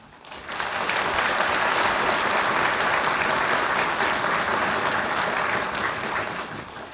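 Dense, sustained applause from an audience of ministry staff at a Korean justice ministry address, rising quickly and holding steady for several seconds before easing slightly, with no talking over it.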